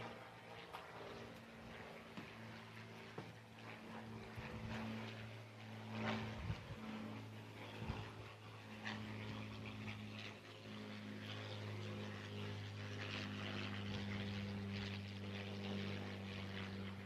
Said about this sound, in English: the Supermarine Spitfire Mark 9